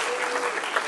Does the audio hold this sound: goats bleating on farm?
no